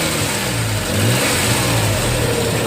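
A Nissan 3.3 engine runs steadily after a bad injector was replaced, with a close, even idle that lifts into a slight rev and carries a broad hiss, heard alone.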